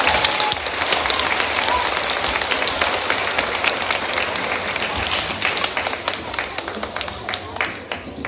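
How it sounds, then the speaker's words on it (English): School Veterans' Day assembly crowd applauding a PE teacher who served in the Navy, with thick, even clapping sustained throughout that thins slightly into sparser claps near the end. "So let's say thank you and round of applause"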